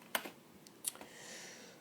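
Typing on an Apple keyboard attached to an iMac G3, a few quiet key clicks in a short burst, near and faint, with no talk.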